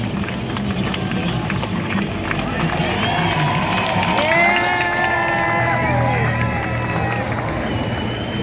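Roadside crowd cheering and shouting along the Tour de France route in Calvados, a steady dense roar with whistles and yells, close and loud throughout.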